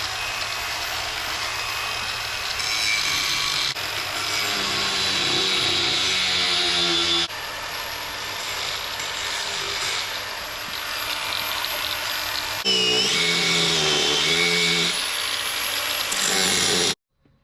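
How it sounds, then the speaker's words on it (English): An angle grinder shapes the nose and mouth of a wooden chainsaw-carved bear, a continuous close, loud whirring rasp with shifting pitch as the disc bites the wood, cutting off abruptly at the end. "get the angle grinder and do the nose and the mouth"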